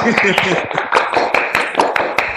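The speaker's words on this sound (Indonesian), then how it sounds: "Kan kita tepuk tangan dulu buat kalian semua" A classroom group of students applauds their classmates, giving a quick burst of uneven, overlapping hand claps close by, with voices murmuring underneath.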